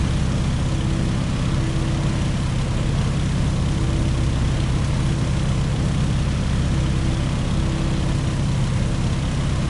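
A Boeing Stearman PT-17 biplane in a flight simulator game drones with a steady, loud, low propeller and engine hum that holds constant from start to finish without any talk.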